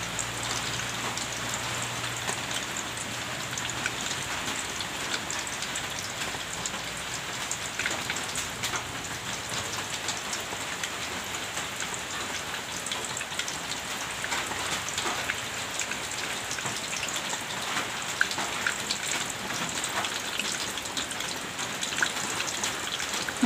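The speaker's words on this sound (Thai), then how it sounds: "ตอนนี้ฝนกำลังตกเลยค่ะ" Steady rain pours down outdoors beside a home kitchen, a continuous dense hiss of drops hitting surfaces, with scattered louder splats and no voices.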